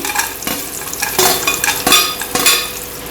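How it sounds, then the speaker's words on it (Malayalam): Cashew nuts frying in hot oil for a veg biryani, a close sizzle with repeated scraping stirs of a spoon in the pan at a loose, uneven rhythm. "എണ്ണയെല്ലാം ചൂടായി ഞാനിതാ കശുവണ്ടി ഇടുന്നുണ്ടേ"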